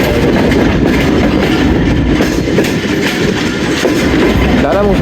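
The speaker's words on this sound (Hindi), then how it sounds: "लाला मूसा जंक्शन अप्रोच बना रही है 101 अप सुपर रफ्तार रेल कार" A 101 Up railcar train rolls into Lala Musa Junction, a steady loud rumble of wheels with faint clickety-clack over the rails and a brief squeal near the end.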